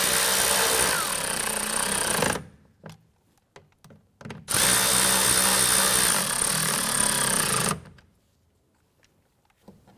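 A power tool snugs down the bolts of an exterior door handle on a 2011-2018 Ram 1500 in two loud, steady whirring runs, each lasting a couple of seconds. Short clicks and taps fall between them, and the runs stop abruptly.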